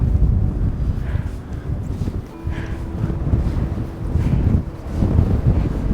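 Strong wind on a high rocky mountain road in Ladakh, gusting against the microphone in loud rumbling buffets that rise and fall, with no clear talk.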